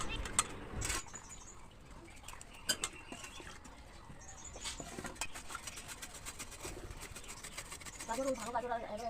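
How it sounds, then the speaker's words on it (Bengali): Faint bird chirps and calls come from a distance over quiet outdoor ambience, mixed with light scraping and tapping noises nearby. "চারিদিকে পাখিদের কত সুন্দর আওয়াজ।"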